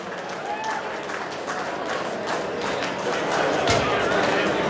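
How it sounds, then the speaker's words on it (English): A crowd at a state championship awards ceremony applauds a 75 kg elite open female champion, a steady, fairly loud wash of clapping that builds slightly toward the end, with voices mixed in. "Please give a round of applause for her opponent, Laura Wright."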